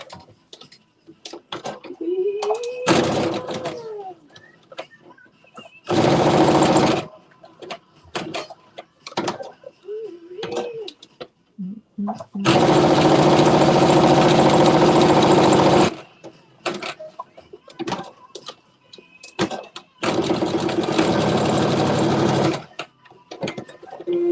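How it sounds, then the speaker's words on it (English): A sewing machine runs in three bursts, stitching fabric 3/8 inch from the edge with a fast steady whir, the longest run in the middle, separated by quiet pauses with light handling clicks. "So you're going to stitch 3/8 of an inch from the edge."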